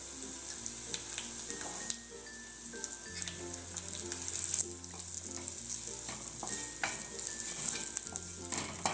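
Poppy seeds and crushed sesame roasting in a pan over a very low gas flame for Vidarbha-style sambar vadi filling, a steady soft sizzle with faint stirring scrapes throughout, no talk.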